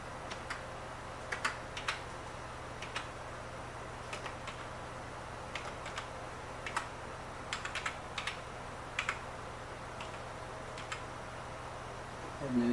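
Fingers tap out a username on a computer keyboard, a quiet run of light, scattered keystrokes over a steady low hum, with a sharper clatter of keys at the very end.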